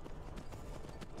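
Horse hooves clop in Skyrim, a quick rhythmic run of muffled thuds at moderate distance, steady and unbroken over a faint background, with no voices.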